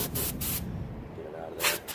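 Compressed air blasts debris out of a BMW engine intake air filter housing in a harsh, broadband hiss that comes in several short bursts, close up, with someone talking through it.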